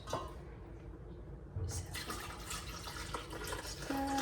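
Tap water runs steadily into an espresso machine's water tank, a continuous rushing splash that grows a little louder partway through.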